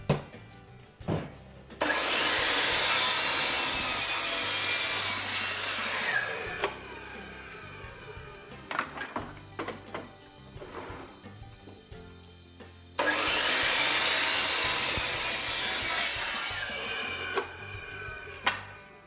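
Wooden boards for a Kenyan top-bar beehive cut with a power saw, two long loud whining cuts with clunks, knocks and wood handling in between, close by and without talk.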